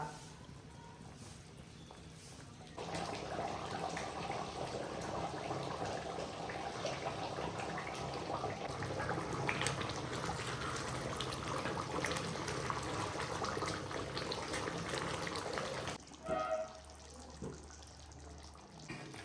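Steady bubbling and churning of mutton curry at a vigorous boil in a pot, continuous and close, dropping off near the end.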